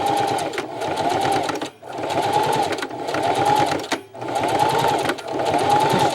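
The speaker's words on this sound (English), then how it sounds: "so back to the sewing machine." A sewing machine stitches a bow saw and hatchet pouch in steady rapid bursts, its motor whirring with short pauses between runs.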